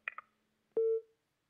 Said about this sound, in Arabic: قطع الاتصال استاذ مصطفى